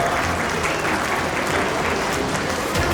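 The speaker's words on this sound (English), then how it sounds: "A round of applause." Applause from the audience at a Vidyarambham ceremony at Sacred Heart Convent School, a dense, steady wash of many hands clapping at full volume throughout, with no gaps.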